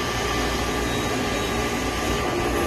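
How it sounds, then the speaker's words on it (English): Air purging hard through the bleeder of a 20 hp motor-driven water pump, a loud steady rushing hiss that holds without a break from start to finish. "We're going to open up that gate valve and we're going to purge it"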